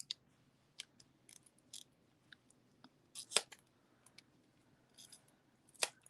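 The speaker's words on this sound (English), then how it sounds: "now I'm going to go in just like it was a regular stamp and trim it up" Scissors trim around a rubber stamp in sparse, close snips and small clicks, some louder than others, with quiet pauses between cuts.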